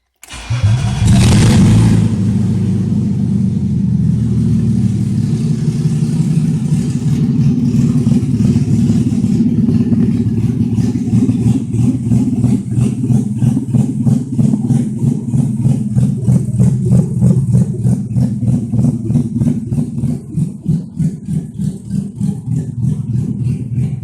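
A BMW E36 engine with open headers, loud and raspy, cranks and fires, then keeps running with a rapid, uneven throb and bursts of revving, close to the microphone and with no voices.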